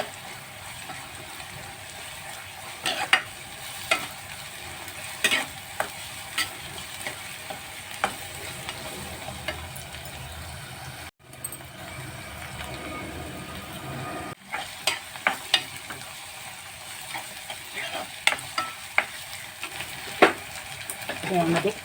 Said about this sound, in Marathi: आता त्यामध्ये आलं, लसूण आणि मिरचीचा ठेचा घालूया. तोही छान परतून घेऊया.